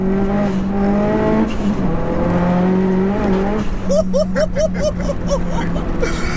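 Fully forged big-turbo 480 bhp Seat Leon Cupra R accelerating hard on a road, a loud engine note climbing through gears with rapid shift blips and tire chirps, and people talking over it.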